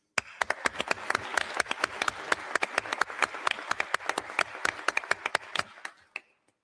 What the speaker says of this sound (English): give a round of applause to the work of the